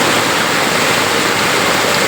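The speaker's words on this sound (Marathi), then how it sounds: "बांधाच्या वरून पाणी जायला लागलं आहे" Floodwater rushes over a field embankment during heavy rain. A loud, steady roar of surging water continues throughout with no voices.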